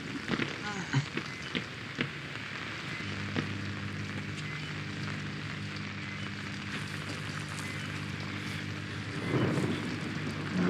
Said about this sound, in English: Why here is always raining?